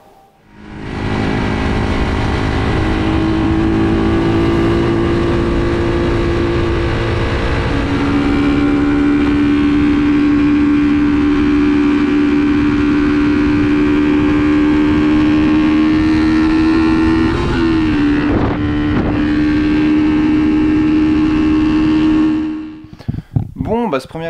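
A Honda 125 CB Twin motorcycle with new reproduction carburettors on a stock engine rides a test run, its steady engine drone holding loud and close with a rising pitch near the end before it tapers off.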